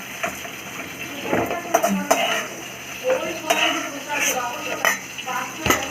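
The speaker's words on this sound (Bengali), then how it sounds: "এবার ওই তেলের ওপরেই আমি এবারে সজনের ডাঁটাগুলো দেবো দিয়ে হালকা নেড়ে চেড়ে নামিয়ে নেবো" Drumstick pieces stirred briefly in hot oil in a pan for a fish curry, with metal spatula clanks and scrapes against the pan over a soft sizzle, close and uneven in rhythm.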